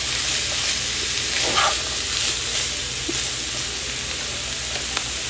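Onions, bell pepper and celery sizzle steadily in a pan for goulash, with a few soft scrapes as the vegetables are tossed and mixed; close, even frying with no talking.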